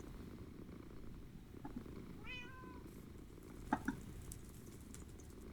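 A cat in Minecraft gives a short, faint meow over low background rumble, followed by a couple of soft ticks, with no talking.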